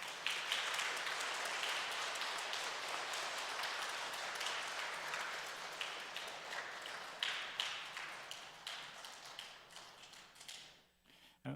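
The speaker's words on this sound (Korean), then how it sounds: "큰 박수 부탁드리겠습니다." Parish congregation at a Catholic church in Sanbon applauding during a welcome ceremony for a nun; a long, dense stretch of crowd clapping at moderate distance that gradually thins and fades out near the end, with no voices.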